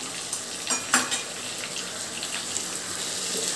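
Ginger paste, turmeric and chili fry in a pan for prawn curry with a steady, bright sizzle that holds throughout, broken by a few soft stirring knocks near the start.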